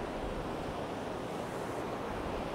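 Whipped-up sea breaking on an East Coast beach at Sutton on Sea, a dense, continuous roar of surf and wind noise, loud and close throughout with no speech.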